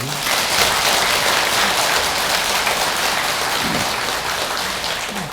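A crowd at a Buddhist dharma service applauds steadily and loudly throughout, a dense continuous patter of many hands clapping.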